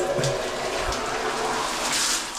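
Water runs steadily in a continuous rushing stream in a bathhouse, close by, like a tap or drain flowing.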